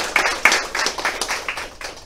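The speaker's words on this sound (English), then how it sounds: "So can we give them one more round of applause for the work that" Audience applause at a Pride Month dedication event, a brief burst of scattered, fairly close claps that thins out over about two seconds.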